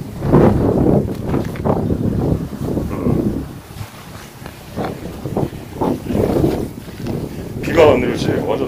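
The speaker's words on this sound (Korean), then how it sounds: "돌풍이 장난이 아니에요" Strong hot, dry spring gusts of wind buffet the microphone in steady roaring surges, rising and falling throughout, with a person talking over the blustery noise.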